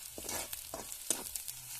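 Onion and chopped green chillies sauté in oil in a pan for a tempering, with a faint, close sizzle broken by a few soft stirring scrapes.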